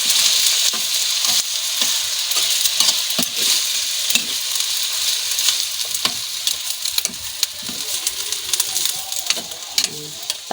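Cabbage fries in a pan, a constant loud sizzle with frequent sharp clicks and scrapes as it is stirred, heard up close under occasional faint voices.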